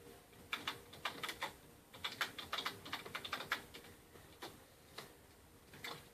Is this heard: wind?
no